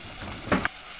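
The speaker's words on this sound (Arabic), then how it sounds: "هقلبهم بقى كويس جدا بالشكل ده" Chicken and rice in a pan being stirred with barbecue sauce, a soft frying sizzle underneath with two quick scraping clatters of the spoon against the pan near the middle.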